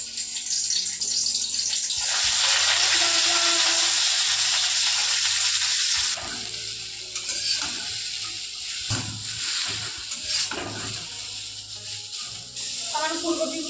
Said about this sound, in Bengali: আমার ফুলকপিগুলো ভাজা হয়ে গেছে।